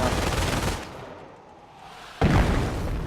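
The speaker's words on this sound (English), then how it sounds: "Getting just a little burst of that machine gun, and they're cut off." A machine gun burst in the Company of Heroes strategy game, a loud rattling volley that cuts off and then slams back in with a heavy boom, dense gunfire filling most of the short stretch.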